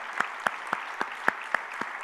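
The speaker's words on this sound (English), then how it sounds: "Let's give him a round of applause." Sparse, evenly spaced hand claps ring out one at a time in a steady rhythm, sounding like a thin round of applause.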